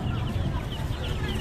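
Live chickens at a busy poultry market selling local free-range birds, clucking in a dense steady chatter close by, with crowd noise beneath and no clear speech.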